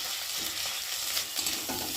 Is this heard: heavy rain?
no